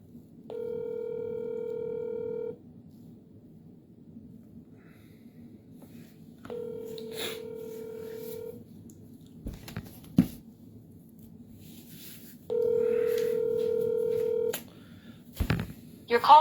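Touch-tone dialing and telephone tones play through a phone line before the call is forwarded to voicemail: three separate bursts of steady tones, with clicks and faint line noise between them.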